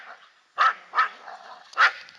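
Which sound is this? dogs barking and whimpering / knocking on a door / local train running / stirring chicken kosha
dogs barking and whimpering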